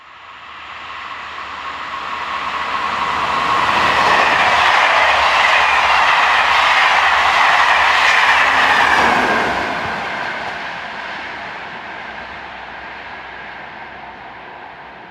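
French SNCF BB22391 electric locomotive hauling a morning Lyon to Grenoble passenger service, passing the trackside: a broad roar swells over about four seconds, holds loud with rolling wheel noise, then fades as the train moves away.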